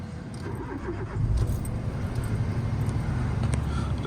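A 2010 Citroen C1 VTR five-door hatchback cranks and fires up close by, after which the small engine settles into a steady, even idle.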